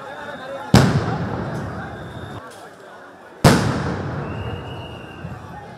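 Police sound grenades go off during crowd dispersal: two loud, sharp blasts a few seconds apart, each trailing into a long decaying rumble over continuous crowd noise outdoors.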